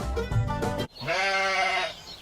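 A sheep bleats in a farm animal guessing game, one drawn-out wavering baa heard clearly and alone after a brief musical lead-in.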